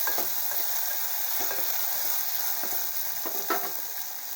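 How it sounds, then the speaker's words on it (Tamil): Garlic, onion and a large chopped tomato sautéing in a pan for kurma give a steady, close sizzle, broken by a few scraping stir strokes. "நல்லா வதக்கி விடலாங்க."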